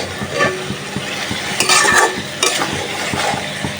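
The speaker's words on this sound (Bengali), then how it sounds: "দুই মিনিটের মতো কষাবো মাছটা যাতে করে তেল মরিচ লবণ মশকা সব কিছু ঢুকে" Fresh pond koi fish being stir-fried in a pan with oil, chili, salt and spices, a loud continuous sizzle broken by repeated spatula scrapes and clinks against the pan, no voices.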